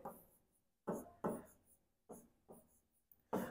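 A pen or marker writes out steps on a board in short separate bursts of scratchy strokes, six quick scribbles with quiet gaps between, close and fairly soft.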